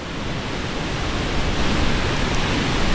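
Floodwater rushing hard enough to wash out a bridge, a dense, steady roar of churning water that fills the whole clip loudly and evenly, with no voices.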